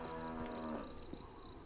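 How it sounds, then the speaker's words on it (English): A sick cow in the video game Going Postal lets out a single drawn-out moo, moderately close, over a faint game background. "That cow looks really sick."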